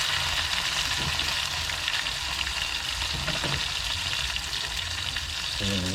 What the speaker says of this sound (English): Now you add your small onions.